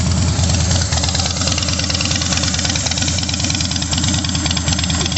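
A 2009 Harley-Davidson Night Train Softail V-twin engine idling at a traffic light, a loud, steady, even loping rhythm of low pulses heard up close, with no talking.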